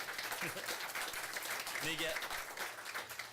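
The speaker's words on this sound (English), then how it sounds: "Give him a round of applause." Applause from a city council meeting audience honoring a recognized resident, steady and moderately loud, with voices talking over it throughout.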